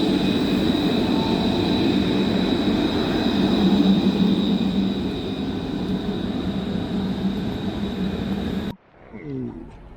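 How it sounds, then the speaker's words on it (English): A tram rolls past on a street in Santa Cruz, Tenerife, its loud sustained rumble and hum filling most of the clip before cutting off abruptly near the end. "Tram in Santa Cruz."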